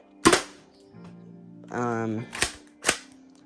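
An Orion Blasters Danpistol toy blaster fires in several sharp, close cracks with short gaps between them, and a brief buzzing mechanical whir sits between the shots.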